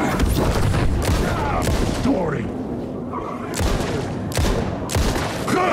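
A flashbang goes off in the video game Alan Wake 2 amid heavy, loud bursts of booming gunfire that come in repeated sharp blasts, with a voice talking in between.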